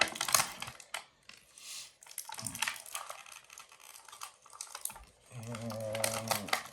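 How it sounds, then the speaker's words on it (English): Packing tape being peeled and torn off the plastic and cardboard packaging of a Marvel Legends X-Men '97 Cyclops action figure, with crinkling, scratchy ripping bursts close up and no talk. "I'm fighting tape, the best part about this"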